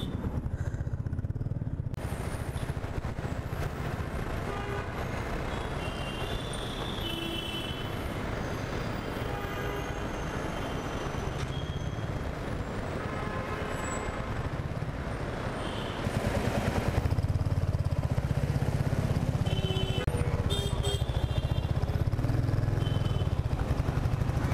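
Motorcycle ride on a road, with a steady engine drone and wind rush running unbroken throughout and growing slightly louder toward the end, with no talking.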